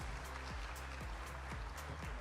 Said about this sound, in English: One more round of applause, please, for all our signatories.